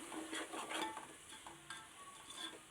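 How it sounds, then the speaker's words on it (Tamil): Spatula stirring a thick jackfruit biryani masala with added curd in a pan, a low bubbling sizzle under soft repeated scraping strokes, close and quiet with no voices. "ஒரு ரெண்டு நிமிஷம் அதையும் நல்லா கிளறி விட்டுக்கலாம்"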